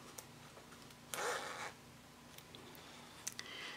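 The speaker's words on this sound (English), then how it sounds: "take the zipper and pull the zipper pull down past those marks" A zipper pull drawn down along the zipper tape of a sewn minimalist ID wallet, one short, quiet zip in an otherwise hushed room with a few small handling clicks around it.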